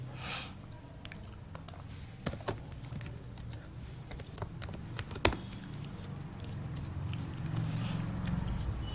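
Typing code on a computer keyboard: scattered quiet key clicks and taps at an irregular rhythm over a low steady hum, close but faint, with no talking.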